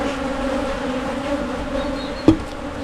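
Steady droning buzz of a honey bee swarm filling a hive, continuous and close, with a brief sharp knock near the end.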